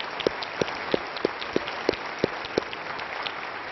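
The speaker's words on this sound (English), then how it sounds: "Could we just take a moment and give them a quick round of applause?" A conference audience at an opening keynote plenary session applauds, a steady wash of many hands clapping with regular sharper claps standing out, moderately loud and sustained without a break.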